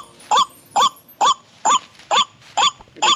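Duck at a pond calling loudly, seven evenly spaced harsh honking calls repeating steadily, close and clear with no other sounds.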